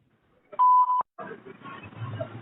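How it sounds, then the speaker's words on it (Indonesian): A single steady voicemail recording beep, loud and clear for about half a second, follows a short quiet gap, after which a faint phone-line hiss and muffled background noise carry on. "Rekam pesan Anda setelah nada bip."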